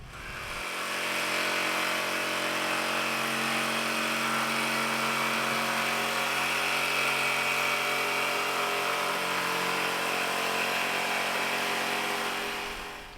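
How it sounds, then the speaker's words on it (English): A jigsaw cuts along a scribed line on a boat cabin, a loud, sustained buzzing whine that starts up, holds steady for several seconds and winds down at the end, close by with no talk. "we'll just take the jigsaw to this now and we'll make our cut"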